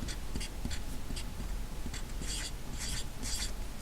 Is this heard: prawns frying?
no